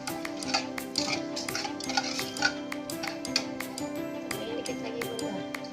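Spice paste thinned with a little water is stirred in a pan, with repeated light metallic clicks and scrapes of a utensil over a steady tonal background.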